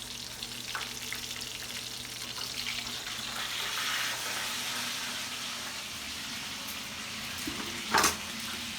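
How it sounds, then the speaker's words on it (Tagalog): Pork chops sizzle and crackle steadily in a hot frying pan, with a brief clatter near the end. "Prito ko ng pork chop."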